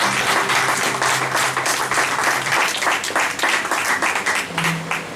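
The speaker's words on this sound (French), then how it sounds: "Est-ce qu'on peut acclamer très fort pour la gloire de Dieu?" A church congregation applauds and cheers loudly in praise of God, dense steady clapping filling the space with raised voices mixed in.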